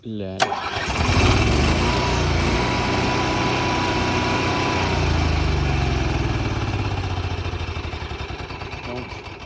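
The generator of a 2021 Jayco Redhawk 24B RV coughs to life and settles into a loud, steady drone close by, running continuously with a voice speaking in French over it.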